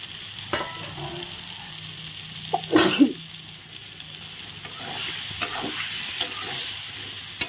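Fried potatoes dropped into hot oil in a pan for a Bengali potato curry, a soft steady sizzle broken by a few sharp clattering bursts and one louder splash near the middle.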